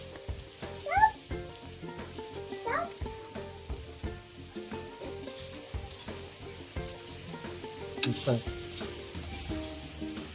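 Besan chilla batter sizzles on a hot tawa with a steady crackle. Sharp clinks and scrapes of a utensil cut in, along with a faint background voice.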